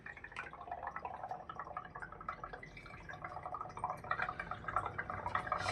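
Dishwashing liquid pours and drips during a dish wash demonstration, a close, steady trickle with scattered drips running throughout, without talking.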